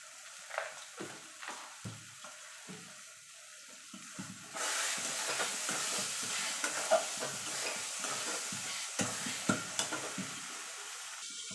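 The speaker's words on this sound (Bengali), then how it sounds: "দিয়ে ভালো করে মিশিয়ে নেব। মিশিয়ে আরও মিনিট 2 এটাকে রান্না করে নেব।" Taro leaves and prawns cook in a pan, first with soft intermittent scrapes of stirring, then a continuous hissing sizzle takes over, punctuated by occasional spoon knocks against the pan.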